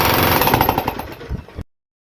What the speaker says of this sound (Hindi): मशीन का साउंड अलग होता है, इसमें हैमर वाला साउंड होता है।